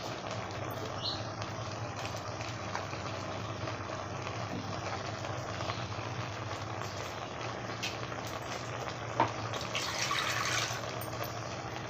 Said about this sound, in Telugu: ఇందులోకే వాటర్ కూడా వేసేసుకున్నామండి